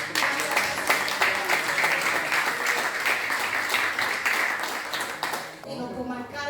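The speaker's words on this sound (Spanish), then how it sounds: "Démosle un aplauso al Señor." Church congregation at a training seminar breaks into steady, loud applause that runs continuously for several seconds before tapering off, with music or voices faintly entering at the end.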